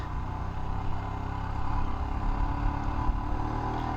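A Royal Enfield Himalayan motorcycle with its stock exhaust, BS6 emissions compliant, rumbles at a steady low engine drone while riding into town, with wind noise over the microphone.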